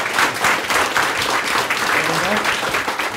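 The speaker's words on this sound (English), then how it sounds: "let's give a big round of applause to our speakers tonight." Sustained applause from a crowd at a data talk event, dense clapping filling the whole stretch at steady loudness, with some voices mixed in.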